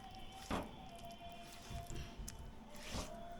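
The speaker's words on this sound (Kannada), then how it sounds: "ಇದಕ್ಕೆ ಸ್ವಲ್ಪ ನೀರು ಹಾಕ್ಕೊಂಡು ನಾದ್ವಂಗೆ ಕಲಿಸ್ಬೇಕು" Ragi flour dough is worked by hand with a little water, giving faint, soft wet squishes and squelches at irregular intervals in a quiet setting, with no voices.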